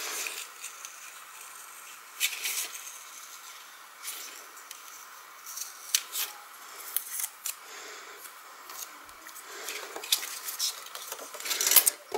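Scissors snipping through paper and cardstock at a crafting table, close, quiet and irregular clicks and crisp cuts scattered across the span, with no speech.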